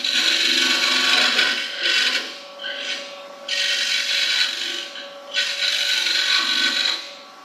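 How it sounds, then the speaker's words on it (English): A Boxmaster double-ended negative rake scraper rasps against a spinning wooden spindle on a lathe, with loud bursts of scraping broken by short pauses over the steady lathe hum. "negative rake scraper."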